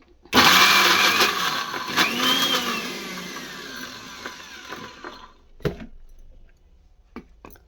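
A mixer grinder whirs loudly, grinding soaked green gram into batter with pitch rising and falling, then winds down and stops, followed by a few sharp clatters of the jar and lid, close and without speech.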